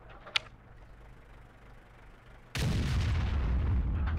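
A tank's main gun fires in World of Tanks, a heavy boom that hits suddenly after a quiet stretch with a small earlier click, then a sustained rumbling roar continues to the end.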